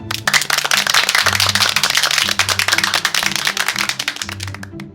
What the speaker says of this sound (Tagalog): bigyan ninyo ang mga sarili ng 5 palakpak